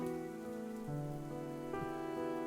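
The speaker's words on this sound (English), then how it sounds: "I choose to listen to the rain, how the soft pitter-patter of droplets land atop my umbrella before slipping gently to the ground around us." Steady soft rain patters on an umbrella in a video game scene, a continuous gentle hiss of droplets with faint tonal music lingering underneath and no voices.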